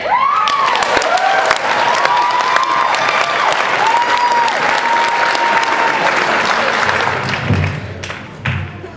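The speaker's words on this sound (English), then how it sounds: "Here it goes. Let's hear it for Barrett." Sustained applause from a large crowd at a stand-up comedy show in San Diego fills the room, steady clapping with some cheering that begins to fade near the end.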